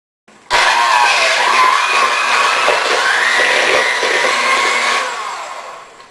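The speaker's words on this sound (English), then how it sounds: "And I'm going to get the mixer out." An electric mixer creams six tablespoons of butter in a bowl, its motor kicking in abruptly with a loud, steady whir that holds for about four and a half seconds before easing down, close by and without speech.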